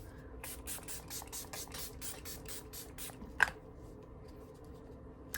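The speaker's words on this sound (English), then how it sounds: "I use the Milani Make It Last Original Setting Spray." Quiet, close spritzes of Milani Make It Last Original Setting Spray fire in a quick, even series of short hisses, followed by a small tap and near silence.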